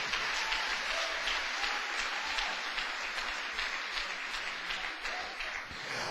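Congregation in a church giving a round of applause for the Lord, a sustained rush of many clapping hands heard from some distance, even and unbroken for several seconds.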